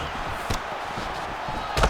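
A kick lands on a fighter during a UFC bout, heard as two dull thuds over steady arena crowd noise, the second strike a little louder.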